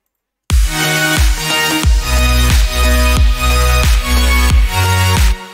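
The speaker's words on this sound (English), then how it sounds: "I think I want to add this super duper saw made by myself" Self-made super saw synth patch built in Vital, playing a dense, bright stack of chords in steady rhythmic hits, loud and sustained with sharp retriggers roughly every half second, alone with no voices.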